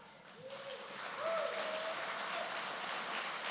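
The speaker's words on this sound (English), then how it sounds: "Please do not hold your applause." An audience applauds board members standing for recognition at a Rough Riders Roundup presentation, broad sustained clapping that builds within the first second and holds steady, with a voice faintly speaking underneath.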